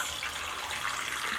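Water running from a kitchen tap into a pot, a steady broadband splashing hiss, close and continuous with no talk.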